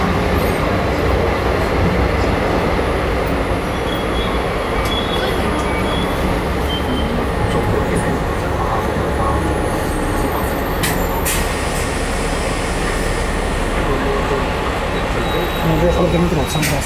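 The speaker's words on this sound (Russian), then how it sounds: "это метро, самое настоящее." A metro train in Hong Kong runs with a steady, loud, continuous rumble of wheels and carriage noise, with occasional higher squeals and faint voices in the background.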